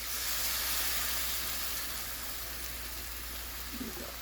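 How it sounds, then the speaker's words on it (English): Milk poured into flour gravy in a hot pan gives a steady, soft sizzling hiss that fades slightly toward the end, with no talking. "And now I'm going to add milk."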